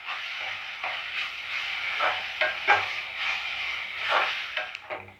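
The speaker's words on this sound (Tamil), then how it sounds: "இஞ்சி பூண்டு பேஸ்ட்டு நல்லா பச்சை வாடை போகிற வரைக்கும் வதக்கி விட்டுட்டே இருங்க." Ginger garlic paste sautéed and stirred in a pan over a low gas flame for a mango chicken curry, giving a steady soft sizzle and hiss with repeated scraping strokes of the spoon, close and continuous with no voices.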